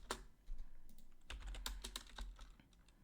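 Fingers type a short burst on a computer keyboard, close and fairly quiet, with irregular clacking keystrokes and a few louder key hits.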